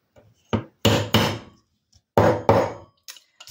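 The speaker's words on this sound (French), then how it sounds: "Petit marteau, c'était dans un jeu." A small toy hammer from a children's game taps sharply on a hard surface during Christmas gift tag making, with several close, loud knocks, some in quick pairs, and fainter taps between them.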